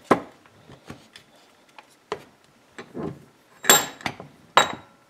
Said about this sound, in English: Now I'm going to put this in the vise.